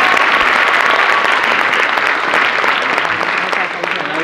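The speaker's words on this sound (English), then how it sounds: "How about a round of applause?" Sustained, dense applause from an audience at an author's presentation in a town, loud and steady throughout with no gaps, easing slightly near the end.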